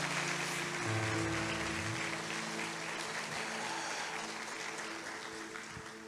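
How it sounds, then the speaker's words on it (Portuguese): A church congregation applauds steadily in a broad, rain-like wash of clapping, with sustained musical tones droning underneath and the applause gradually easing. "Aplauda ao Senhor."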